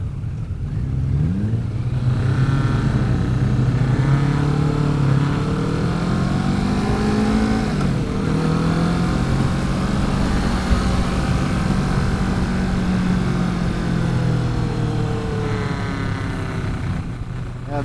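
Kawasaki 2019 Vulcan S ABS motorcycle engine on a test ride, a loud, steady near drone that rises and falls in pitch through gear changes with constant wind rush, no talk over it.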